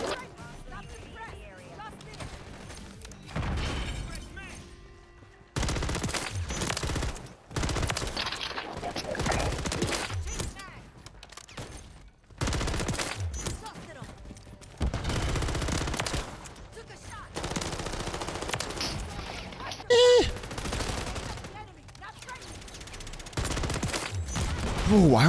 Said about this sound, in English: I don't know why they buffed this thing. This is already an incredible SMG.